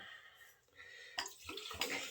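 Four Roses 80 proof bourbon pours into a mason jar, making a splashing, gurgling liquid sound that starts after a quiet moment and runs in two close bursts.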